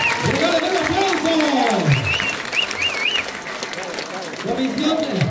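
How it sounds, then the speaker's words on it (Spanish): Crowd applause at a ranch-style jaripeo rodeo in Santiago Lalopa, clapping and cheering under a loud announcer's voice, with whistles and sound-system noise mixed in. "¡Regalen un aplauso!"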